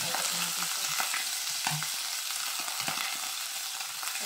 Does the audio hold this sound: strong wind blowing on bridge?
no